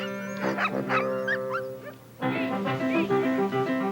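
An Alaskan sled dog team yips, whines and howls together in a busy overlapping chorus, with high wavering cries layered over one another throughout, close and fairly loud.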